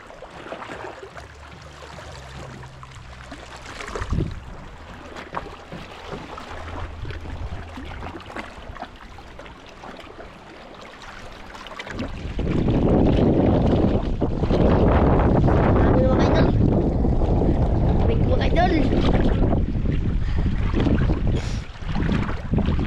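Boats moving on open water with steady wind buffeting a nearby microphone, the broadband rush growing louder and more constant in the second half, with a sharp knock near the start and no voices.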